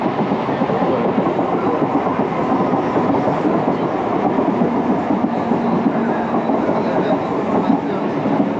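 A train rumbles steadily along the tracks, a constant loud roar of wheels and carriage noise with faint rhythmic clatter throughout.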